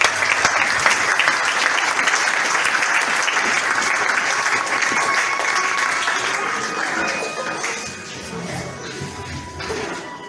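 A church congregation at a French-language seminar applauds to acclaim the Lord, with loud, sustained clapping from many people that fades slightly toward the end.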